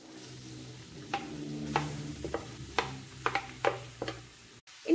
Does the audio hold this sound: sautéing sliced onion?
yes